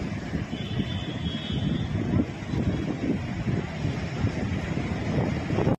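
Strong wind buffeting the microphone over a constant roar of rough morning surf at Puri beach, loud and unbroken throughout.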